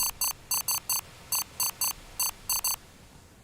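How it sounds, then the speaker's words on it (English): Warning beeps in the space combat game Ruined Horizons: a series of short, bright electronic tones in pairs and triplets with brief gaps, sounding alone over a quiet background hum. "Okay, all those beeps are bad things."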